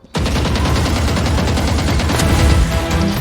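Rapid automatic gunfire in the shooter Valorant, close and loud, with dense repeated shots that start abruptly and keep going almost without a break to the end.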